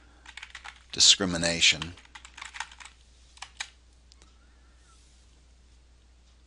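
Search words are typed on a computer keyboard: a close, rapid burst of keystrokes followed by sparser, fading clicks, with a brief spoken word.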